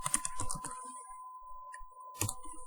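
Code typed on a computer keyboard, with a quick cluster of soft key taps, a pause under a steady tone, then another short burst of clicks, quiet and close.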